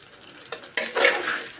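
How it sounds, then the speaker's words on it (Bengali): Rice fried with dry chilli, onion, bay leaf and garam masala in a pressure cooker, a ladle scraping and clinking against the metal, then a rising close sizzle, with no voices. "এবার আমি কুকারের মধ্যে চালটা দিয়ে পুরো ফ্রাই করে নেব।"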